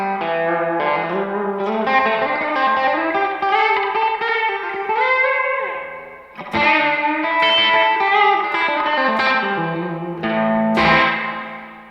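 An electric guitar on its bridge pickup plays a melodic phrase of bent and sliding notes through a studio pedalboard, with distortion and reverb, ending in a few sharper, stabbing chords.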